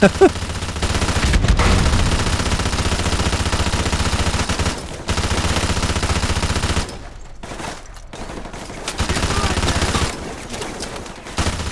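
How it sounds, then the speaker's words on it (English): Gunfire in the video game Call of Duty 4: Modern Warfare, sustained bursts of loud automatic and turret fire nearly throughout, with short pauses and one deeper silent gap. "me just firing at anything, even if there's nothing there"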